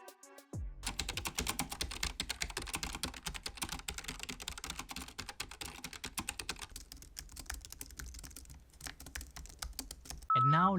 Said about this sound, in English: Let's do an audio sample with this Apple Magic keyboard.